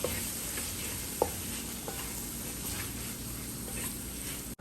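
Masala stirred and sautéed in a pan until its raw smell cooks off, giving a continuous close sizzle with a few sharp spatula scrapes and no talk.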